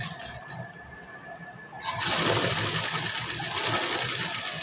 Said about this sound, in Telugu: ఫాస్ట్గా కుట్టకుండా నెమ్మదిగా స్టిచ్ చేసుకుంటూ